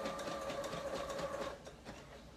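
A sewing machine stitches around the very edge of a fabric heart for a Valentine's garland, a steady, close, rapid whirring hum that eases off and quiets near the end.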